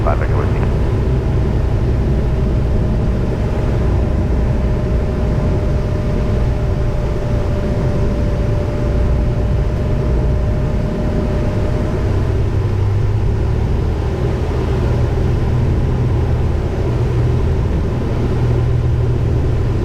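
Steady, loud drone of a 1981 Cessna T210N engine heard from inside the cockpit in flight over Catalina, a constant low rumble throughout with radio and cockpit voices faintly over it.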